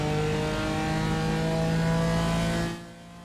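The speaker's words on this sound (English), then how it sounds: "See the little blip in the throttle." A BMW M4 GT4 race car in the iRacing video game, braking down at Road America, holds a steady loud engine drone that then drops off sharply near the end as the throttle eases.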